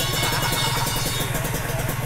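An orange Kawasaki ZX motorcycle engine runs steadily up close, a loud throbbing idle with fast, even pulses and a clattering edge throughout.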